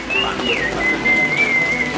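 Steady rain falls outdoors during a chilly 12°C shoot in Vĩnh Phúc, a continuous soft hiss with a thin whistling tone drifting over it; nobody speaks.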